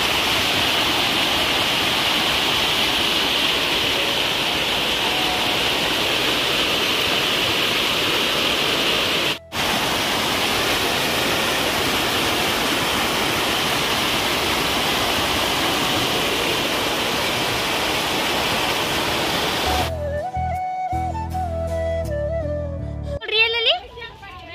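Flood water rushes in a loud, unbroken roar during heavy night rain in a hill village, a dense, steady torrent that fills most of the clip before a voice begins speaking at the end.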